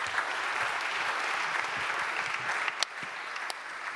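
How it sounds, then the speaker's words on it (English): Audience applause at a scientific conference on single-cell genomics, a steady dense clapping from a large hall audience lasting throughout, moderately loud with no talking over it. "Give him an applause."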